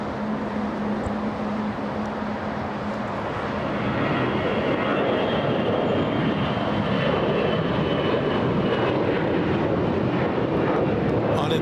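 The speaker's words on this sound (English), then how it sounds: "let's go for the Delta takeoff." A Delta airliner takes off at Los Angeles International Airport, its jet engines building into a loud, steady roar that swells after a few seconds and holds through the rest of the clip, with a faint voice in the background.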